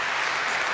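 Brief burst of audience applause at a plenary session of a Northern Illinois church annual conference, a dense steady wash of clapping filling the whole moment.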